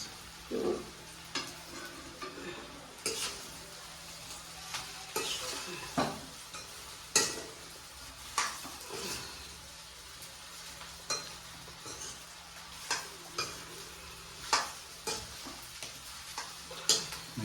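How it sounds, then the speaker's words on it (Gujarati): Food being stirred and mixed in a pan after coriander leaves go in, a low steady sizzle punctuated by regular scraping strokes and light taps from a spoon, close by, with no talking. "સરસ એનો મેટ કરાવી દેવાનું, મિક્સ કરી દેવાનું"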